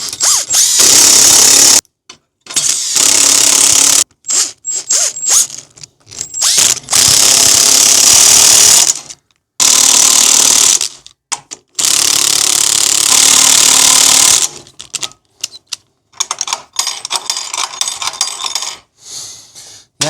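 A power drill drives screws into barn gate boards in repeated loud whirring bursts of a second or two each, separated by short silences and small clicks of handling.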